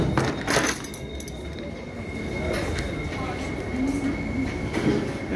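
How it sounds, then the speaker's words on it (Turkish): A tram rolls past near Hagia Sophia in Istanbul, a continuous rumbling rail drone with faint metallic clicks and a high steady whine, heard nearby in a busy outdoor street. "buradan tramvaylar geçiyor bu şekilde"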